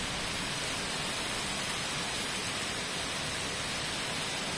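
A downpour in Martins makes a thick, even roar of white-noise-like hiss, steady and loud from start to end, with nothing else audible.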